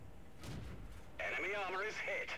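A tank cannon fires in a World of Tanks battle: one muffled boom lands early and faintly, followed by someone talking over the quiet game sound.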